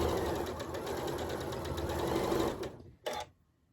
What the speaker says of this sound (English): So I'm just going to go ahead and sew my top row to my middle row.